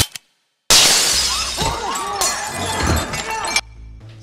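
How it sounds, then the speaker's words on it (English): Glass display cases smashed during a store robbery: a loud burst of shattering glass with scattered clinks and tinkling shards over about three seconds, then an abrupt drop to quiet. "Smashed the cases"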